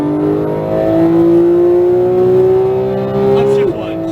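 A Porsche 911 GT3 991.2 accelerating on a Las Vegas race track, its engine note rising steadily in a loud, close in-car drone before a brief dip near the end, with an instructor talking over it.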